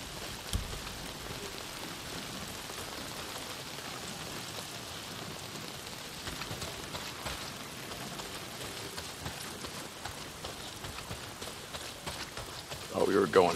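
Heavy rain pours steadily in the video game Days Gone, a dense hiss of drops hitting surfaces throughout, with a few louder splashes building near the end and voices talking over it.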